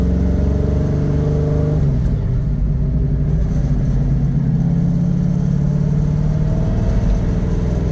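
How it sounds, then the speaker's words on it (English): A 1969 Ford Mustang with a 4-speed manual transmission idles with a deep, steady rumble close by, then revs and holds a slightly higher, throatier drone, loud and continuous. "Car sounds amazing."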